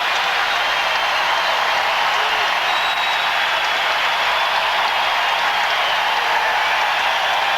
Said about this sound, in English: Well, the crowd's just really getting into it.